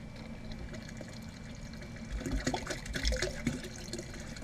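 Lager wort pours into a fermenter and splashes on the way in, a soft steady trickle that swells into louder sloshing bursts toward the end.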